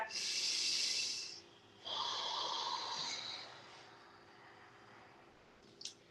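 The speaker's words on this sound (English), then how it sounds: "Breathing here. Ujjayi breath." Slow, audible Ujjayi breathing during a yoga practice: a long hissing exhale, then a softer rushing breath, close and quiet, with a faint click near the end.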